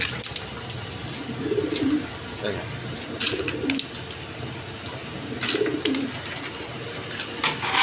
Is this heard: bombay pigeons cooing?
yes